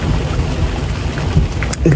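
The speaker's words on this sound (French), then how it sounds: "il pleut. Il est en train de pleuvoir." Steady rain falls outdoors in the Netherlands as a dense, even hiss of drops that continues unbroken throughout, with a few brief louder patters near the end.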